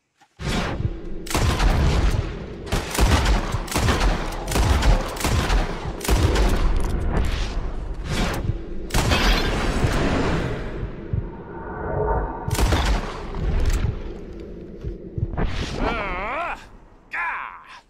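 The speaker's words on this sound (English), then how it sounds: "Whoever shoots the most bottles wins" Repeated gunshots ring out in a Red Dead Redemption 2 bottle-shooting contest, loud sharp cracks in quick irregular bursts spread across the span, with some game voices mixed in between shots.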